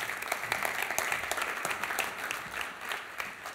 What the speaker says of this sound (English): Round of applause for Cory.